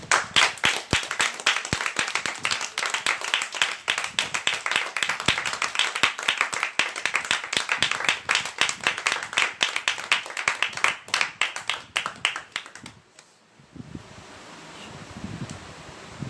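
A church congregation gives loud, sustained applause for about thirteen seconds, dense and continuous, before it cuts off into quiet room noise.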